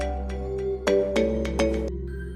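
A phone ringtone plays in a steady repeating electronic pattern, fairly loud and close, with no voices over it.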